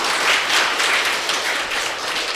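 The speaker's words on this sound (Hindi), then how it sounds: "अपने लिए जोरदार ताली बजाइए फिर तो।" Audience at a talk on happy, healthy living claps loudly for themselves, a steady, dense round of applause with slight surges, heard without speech.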